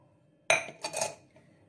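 A spoon stirs boiled milk and cornflakes in a dish, giving one sharp metallic clink followed by a short scraping swirl, close and alone.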